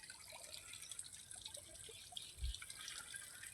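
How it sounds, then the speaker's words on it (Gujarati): Water from a pump motor runs through a wheat field, a faint steady trickle and splash with a soft low thump near the middle, heard alone without talk. "આમાં અત્યારે પાણી ચાલુ છે, મોટર ચાલુ।"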